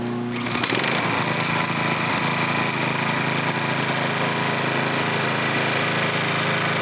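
A Toro TimeMaster lawn mower runs at full throttle while being pushed uphill. Its steady, loud engine drone holds without a break, and a brief rattle comes near the start.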